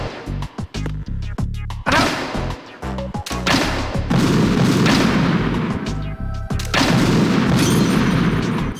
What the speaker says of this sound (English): We get grenade launchers.